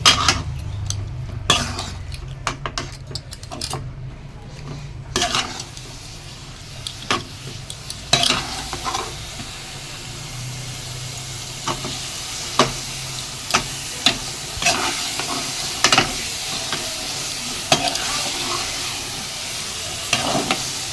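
Jackfruit being sautéed for halwa sizzles steadily in a pan on high heat, while a utensil scrapes and clinks against the metal in irregular stirring strokes, close and clear with no talk.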